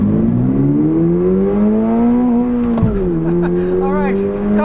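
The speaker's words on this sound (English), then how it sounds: "let's start off with the acceleration in the GR86 and see how that accelerates." A 2024 Toyota GR86 accelerating hard toward its 7,500 RPM red line, the engine note rising steadily and loud from inside the car, with a brief dip at a shift before climbing again.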